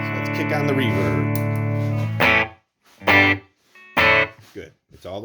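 An electric guitar played through a Peavey Triumph 60 amplifier with reverb switched on, a sustained chord ringing out, then several sharp strummed bursts with quiet gaps between them.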